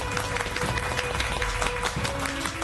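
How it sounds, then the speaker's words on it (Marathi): An audience claps steadily through a short stretch, dense overlapping applause at a Marathi television serial gathering. "टाळ्या."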